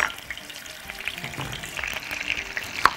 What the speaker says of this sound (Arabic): احط بقى البطاطسايه برضو تتشوح